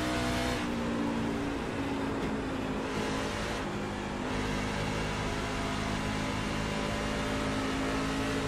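Craftsman Truck Series engines race in iRacing at Charlotte Motor Speedway, a continuous loud, dense roar of several trucks at speed with sustained engine drone and a steady high whine throughout.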